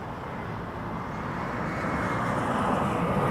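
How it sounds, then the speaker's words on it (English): A Jazz Embraer 175 arriving at Toronto Pearson makes a steady jet engine rumble that grows slightly louder as it approaches. "Embraer 175 coming in from Jazz 753 or 7753."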